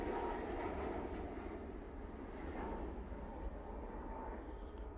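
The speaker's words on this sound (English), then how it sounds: "TUI 737 MAX 8 now departing." TUI Boeing 737 MAX 8 jet departing Manchester Airport, a steady distant engine roar with broad low rumble that holds without breaks throughout, faint and unaccompanied by talk.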